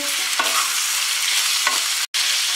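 Potatoes with cumin, turmeric and salt being stirred in a frying pan, a steady loud sizzle with a few scraping strokes of the spoon and a brief break near the end.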